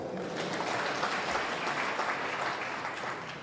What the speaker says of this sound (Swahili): Makofi ingine kwa Governor Ken Lusaka